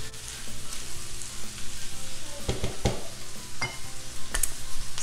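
Spiced squash casserole vegetables stirred in a hot pan, a steady close sizzle broken by several scraping stirs near the middle and end, with no talking.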